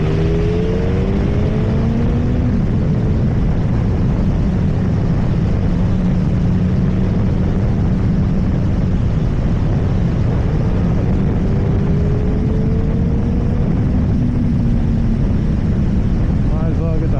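A motorcycle on a test ride at speed, a steady loud engine drone mixed with heavy wind rush and gradual pitch shifts as it accelerates, continuous throughout, with someone talking beneath the noise.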